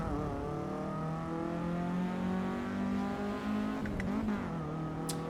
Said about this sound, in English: It does a blip of the throttle on upshift if I'm not letting go of the pedal.